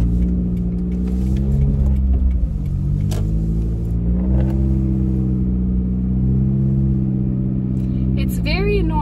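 A car with a faulty muffler drones loudly through its exhaust, a deep, continuous, close rumble that rises and falls slightly in pitch as the engine revs, with a person talking over it.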